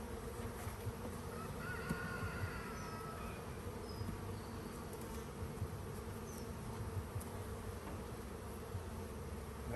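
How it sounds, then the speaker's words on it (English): A dense, steady buzzing of many bees at an open hive fills the air continuously, close and constant, with no voices. "All these white bees flying around right now."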